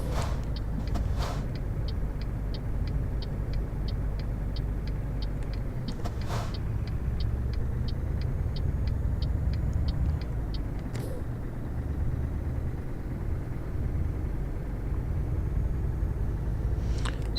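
A Scania truck in Euro Truck Simulator drives with a steady, low engine rumble that holds throughout, joined by a few brief hissing bursts and a faint rhythmic ticking at times.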